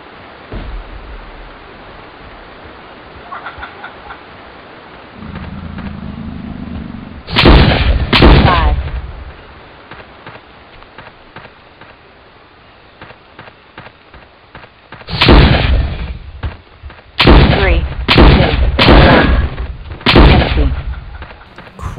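Gunfire in the video game Jurassic Park Trespasser: loud bursts of shots, a pair near the start and a rapid cluster of four or five toward the end, with quiet stretches between.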